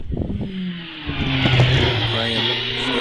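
A Gould GR59J hillclimb car with a lightweight 4-litre Judd V8 pulls away from the start line at a hillclimb, engine note rising and sustained as it accelerates, heard under live commentary.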